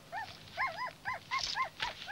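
A sled dog whimpers in a run of short, rising-and-falling whines, about half a dozen in a row, fairly close and soft.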